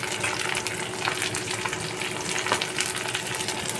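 Onion sizzles steadily in hot oil as green chili and capsicum go into the pan, a dense continuous frying hiss with faint stirring scrapes, close and alone.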